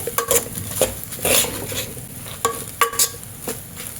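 A spoon mixes salt into jeera rice in a pan, giving repeated scraping and tapping strokes against the metal over a soft background sizzle, close and clear without speech.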